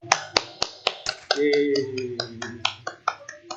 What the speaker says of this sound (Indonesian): Ayo semua kita berikan aplaus.